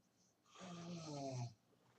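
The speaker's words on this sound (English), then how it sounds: "You heard that? Double clutch snore." A person snores deeply, one drawn-out, rattling inhaled snore rising out of quiet, close and fairly loud, then fading back to near silence.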